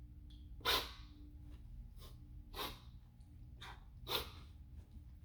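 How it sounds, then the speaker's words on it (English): Heavy, rhythmic breaths during a kettlebell swing, high pull and snatch sequence, about four loud exhalations spaced roughly every second and a half, close up with a low background hum. "as you can hear me breathing a little bit"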